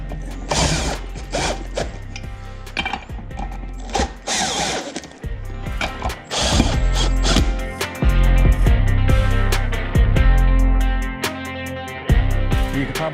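A ratchet snugs down nuts on wheel beadlock studs, giving bursts of rapid clicking and mechanical whirring that start and stop, close up and loud, without speech.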